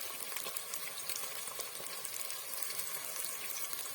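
Steady sizzling and crackling of onions frying in a pan, with occasional stirring scrapes; no voices.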